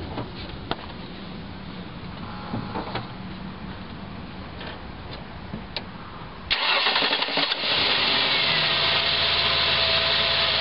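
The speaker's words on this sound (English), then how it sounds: "Let's try turning her over and see what happens then." A Ford Explorer engine cranks steadily for about six seconds, then catches and runs at a loud, steady idle. It is heard up close during a fuel pressure check, with no talking.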